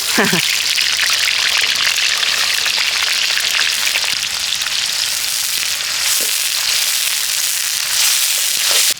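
Onions added to hot oil with cumin seeds for a Telugu Korameenu fish curry, giving a loud, steady, close sizzle and crackle that fills the whole stretch with no pause.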